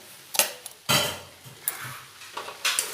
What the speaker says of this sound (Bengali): দিয়ে নাড়াচাড়া করে খুব ভালোভাবে মিশিয়ে নেব